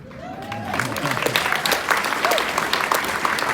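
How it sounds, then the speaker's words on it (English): At a math keynote address, an audience claps steadily in a dense, even patter of many hands, with a brief whoop or voice rising near the start and midway, moderately loud. "You all are going to have to learn how to clap a little louder than that"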